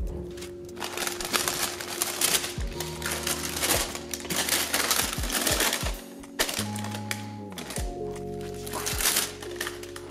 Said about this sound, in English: Here remove the plastic bag